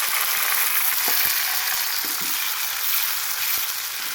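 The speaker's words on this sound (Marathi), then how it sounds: "आता टमाटर टाकायचं." Chopped tomatoes dropped into onions frying in oil in a pan, giving a loud, steady, close sizzle with a few faint spoon taps underneath and no voices.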